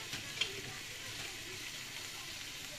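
Meat and vegetables sizzle in a hot cast-iron grill pan, a steady broadband frying hiss that holds evenly throughout with one small tap near the start.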